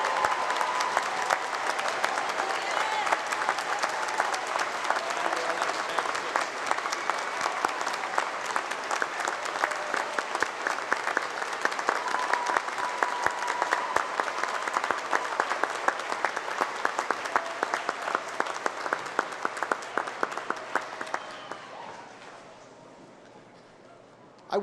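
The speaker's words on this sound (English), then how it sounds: "Let us now recognize our first doctoral degree recipients with our warm applause" Sustained warm applause from a large audience at a university graduate commencement ceremony, steady and dense for over twenty seconds before fading out at the end.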